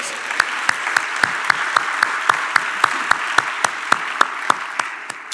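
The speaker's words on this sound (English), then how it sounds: "Give her another round of applause." Audience applause at a State of the County address, a steady burst of clapping with sharp, evenly spaced loud claps standing out near the front throughout.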